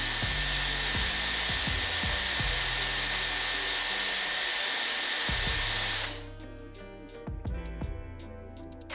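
A Dyson Airwrap hair styler blows hot air with a loud, steady whooshing hiss for about six seconds, then cuts off, leaving faint handling clicks and rustles.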